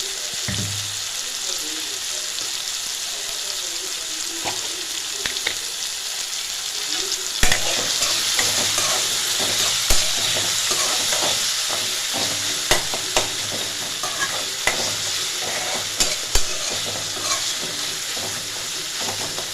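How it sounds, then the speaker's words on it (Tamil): Masala-coated potatoes sauté in oil, a steady close sizzle with irregular clinks and scrapes of stirring throughout, and a few sharper knocks as the pan contents are turned. "மசாலாவை அந்த எண்ணெயிலேயே சேர்த்து அப்படியே வதக்கி விடுங்க."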